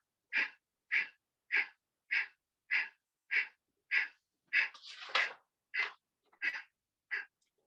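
Rapid forceful nasal exhalations of Kapalbhati yoga breathing, about a dozen sharp evenly spaced puffs roughly every half second with a brief longer breath midway, close and clear in a quiet room.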